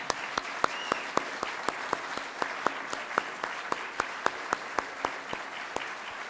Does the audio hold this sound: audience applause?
yes